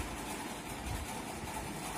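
A sewing machine with a shuttle runs steadily, stitching fabric after a shuttle timing adjustment, giving a continuous low mechanical hum and faint whir with no talk over it.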